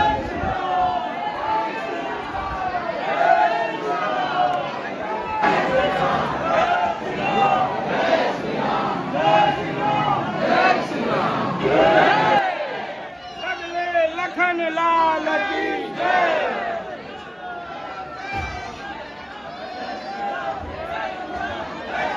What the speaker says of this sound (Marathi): जबरदस्त अशी गर्दी आहे हनुमानगडीला